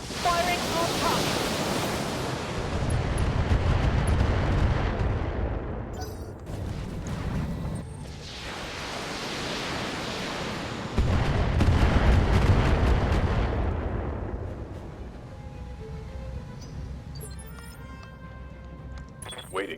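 Mech guns firing on a target in a BattleTech video game: two long, heavy roaring barrages of blasts that swell and decay slowly, with a voice talking over the noise.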